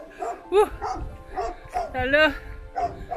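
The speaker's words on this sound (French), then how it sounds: "il était vraiment fâché, le chien" A dog barks and yips rapidly in agitated bursts behind a low fence in the Algarve, Portugal, mixed with whiny, strained vocal tones, sounding fairly close and insistent.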